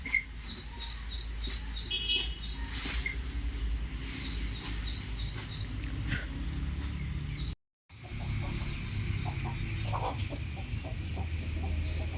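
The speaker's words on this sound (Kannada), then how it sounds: "ಒಂದು ಕೋಳಿ ಪಿಳೆ ಸಿಕ್ಕಿತ್ತೆ ಅಂತ ಈ ಥರ ತಪ್ಪಲೆಲ್ಲಿ ಹಾಕ್ಕೊಂಡು ಇಟ್ಕೊಂಡಿದ್ದಾರಾ" A chick kept in a vessel chirps in repeated quick bursts of high peeps, fairly near, over a low steady background with a brief silent gap.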